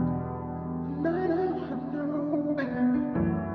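A sung vocal pitched down and drenched in reverb, with sustained low notes gliding between pitches in an afroswing production, heard alone and fairly loud.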